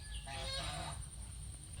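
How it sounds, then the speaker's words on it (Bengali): A chicken gives one short, faint clucking call, heard over a steady background hiss. "এই মুরগিগুলো দেখো কেমন"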